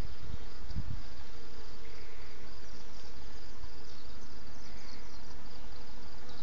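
Honey bees buzz steadily around an open hive during an inspection in citrus season, a close, continuous insect drone with a few louder passes near the start.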